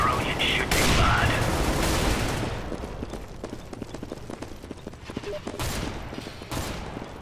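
Rapid bursts of gunfire in the video game CS:GO, a loud volley early on giving way to scattered clicking shots and mechanical rattles, with a voice talking over part of it.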